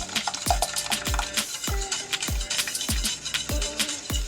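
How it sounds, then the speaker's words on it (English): A whisk beats egg into milk in a pot over low heat for homemade coffee ice cream. It makes rhythmic, close metallic clinks and scrapes against the pot, repeating about twice a second. "we're going to constantly whisk that on a low heat as well"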